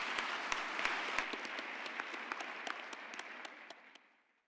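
Audience applause at a university graduation ceremony: dense, steady clapping from a large crowd that holds evenly for about four seconds, then fades out quickly at the end.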